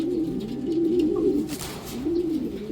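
A racing pigeon arriving at the loft after a 411 km race from Matnog, Sorsogon, gives a close, soft, rolling coo that repeats, alone without talk.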